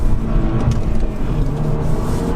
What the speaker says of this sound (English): So we'll just pull out this junction, and I'll accidentally give it too much throttle.